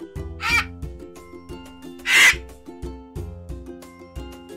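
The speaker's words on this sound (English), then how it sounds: "V for vulture, and how it sounds." A vulture gives two short, harsh, raspy calls, the second louder, both standing out against soft background music.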